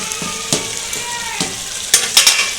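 Mutton curry with potatoes sizzles and fries in a pan as tomatoes go in, steady hiss broken by several sharp stirring scrapes and splashes, close and fairly loud with no talk.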